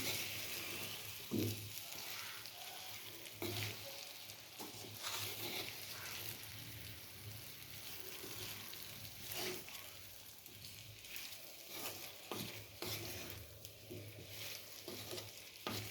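Potato masala fry is stirred in a pan, with a quiet steady sizzle broken by repeated scraping and stirring knocks at an uneven rhythm, faint and close with no speech.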